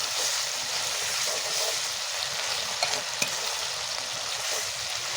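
Dried red chili paste sizzles steadily in a hot pan as it goes into a vegetarian potol dolma, with a continuous close frying hiss and a brief sharp clink of stirring midway.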